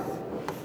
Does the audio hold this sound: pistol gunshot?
no